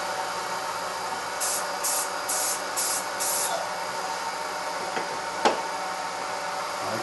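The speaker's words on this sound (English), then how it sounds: "Now I'm going to take an activator." Short hissing bursts of CA finish activator sprayed onto a woodturning, about five quick puffs in steady rhythm, close and fairly loud, followed by a faint tap.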